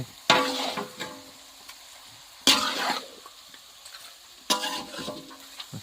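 Meat fries in a pot and is stirred in three distinct scraping strokes spaced about two seconds apart, each over a low, steady sizzle of oil, close up and without speech.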